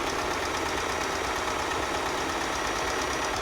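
A sewing machine stitches quilt squares together with a 1/4 inch seam allowance. It makes a steady, continuous mechanical whir at close range, with no pauses and no talk.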